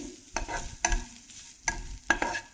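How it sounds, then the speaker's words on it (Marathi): Grated fresh coconut, one bowlful, sautéed in a pan for a coconut mango basundi, with four distinct scraping stir strokes over a soft, steady sizzle, close and moderately loud, no talking. "एक वाटी खवलेलं ओलं नारळ आहे ते मी छान परतवून घेणार आहे"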